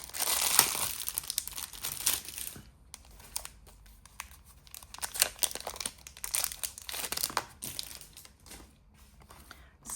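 Plastic wrapping around a stationery package is crinkled and torn open up close, with irregular crackling rustles and faint handling sounds in a quiet room.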